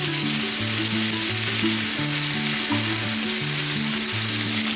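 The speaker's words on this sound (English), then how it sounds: "We'll go ahead and start the bacon" Bacon sizzles loudly and steadily on a hot oiled griddle, a constant close frying hiss with a low rhythmic hum running beneath it and no talking.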